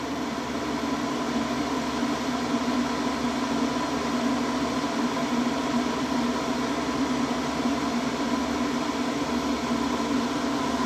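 An LG PuriCare AeroTower purifying fan running in turbo mode gives off a loud, constant airy roar with a low motor hum beneath it, steady and unbroken from start to finish with no voices.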